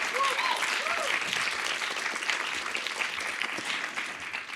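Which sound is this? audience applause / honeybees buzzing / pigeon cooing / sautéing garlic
audience applause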